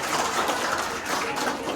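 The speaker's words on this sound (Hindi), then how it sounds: "एक बार उन सभी बच्चों के लिए तालियां बजाइए जिन्होंने इस कार्यक्रम में भाग लिया" An audience at a Teacher's Day school celebration claps for the participating children, a short burst of dense, steady applause.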